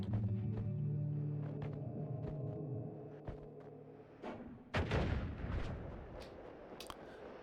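Gunfire and explosions in the video game Noita: a series of sharp shots over a low droning hum, then a heavy blast followed by a rumbling, crackling tail and scattered smaller bursts.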